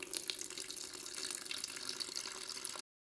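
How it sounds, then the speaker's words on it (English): Water pours steadily into a sourdough starter, a continuous close splashing trickle lasting a few seconds before stopping abruptly. "add in 100 grams of water"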